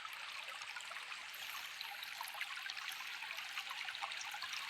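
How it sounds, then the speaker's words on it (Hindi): Water flows from a spring in a forest at Chitrakoot, making a continuous, fairly close gurgling trickle with bright splashy texture, heard alone without voices. "ये देखो पानी निकल रहा है।"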